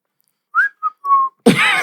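A person whistles a few short, clear notes close to the mic, pausing between them, before a burst of louder noise cuts in at the end.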